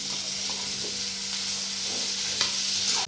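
Coarsely ground curry leaf paste frying in hot oil for potato bhaji, giving a steady, loud, close sizzle with occasional stirring scrapes throughout.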